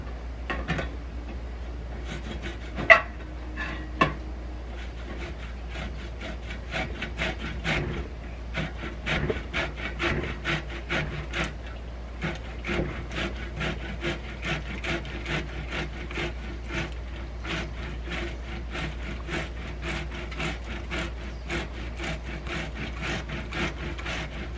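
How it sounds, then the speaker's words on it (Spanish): Tomato and onion are grated on a hand grater for a shrimp and clam stew, a rapid run of rhythmic rasping strokes, close and steady over a low background hum. "Aquí en este rallador voy a rallar el jitomate"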